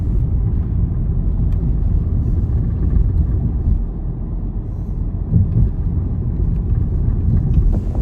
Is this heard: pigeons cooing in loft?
no